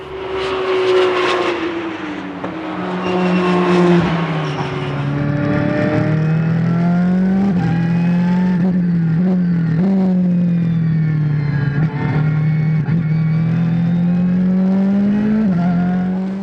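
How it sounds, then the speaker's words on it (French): Ferrari and Porsche race cars at the Anneau du Rhin circuit during a Roscar race start, engines droning loudly and continuously with rising and falling pitch as they pass near, no talk. "Un début de course tambour battant entre le pilote Ferrari et le pilote Porsche."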